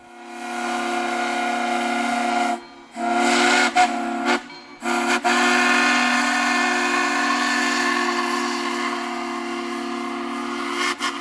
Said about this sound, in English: It is here that we get to hear Lindy's beautiful Southern Railway Long Bell 3 chime for the first time.